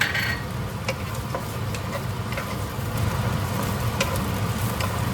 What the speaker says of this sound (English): Just stir fry until those vegetables start to soften